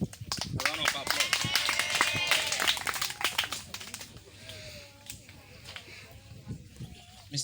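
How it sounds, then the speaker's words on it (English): Scattered clapping from students at a school debate club inauguration, a brisk burst of close claps that thins out and fades as voices murmur underneath. "Round of applause."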